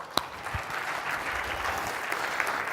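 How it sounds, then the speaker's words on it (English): Steady applause from a conference audience at an executive summit, a dense continuous patter of clapping heard from a distance and holding even throughout. "a round of applause for the leaders"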